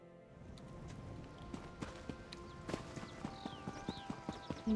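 Horse hooves clip-clop in a steady, quickening rhythm inside the Elder Scrolls Online video game, the sharp strikes close and clear over a soft background ambience with faint chirps.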